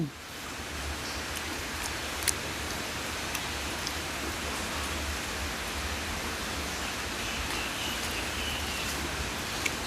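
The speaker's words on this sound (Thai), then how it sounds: "ฝนตกครับ" Steady rain falls on a house in a rural Isan setting, making a continuous soft hiss with a few sharper drips and taps. No one speaks.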